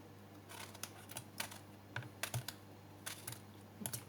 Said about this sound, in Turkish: Bu şekilde doğrayalım arkadaşlar öbür patlıcanlarımızı da.